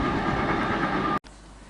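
A Virgin Trains service from London Euston to Liverpool Lime Street passes through Tamworth station on the West Coast Main Line, a loud, steady rush of wheels and rail roar that cuts off abruptly near the end.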